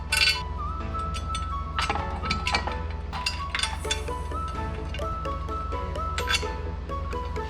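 Metal M10 Allen head bolts and washers clink repeatedly against each other and the bumper of a Kawasaki KRX side-by-side during installation, bright close clicks and taps scattered over steady low hum.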